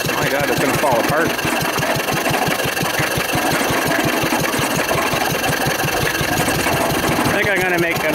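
A 1940s Wolseley engine drives an old mixer through a flat belt, chugging loudly and steadily at a fast, even beat, close up, with a brief mechanical rattle near the end.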